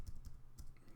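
Typing on a computer keyboard: a short run of quiet, close key clicks in an uneven rhythm, about five taps in a second.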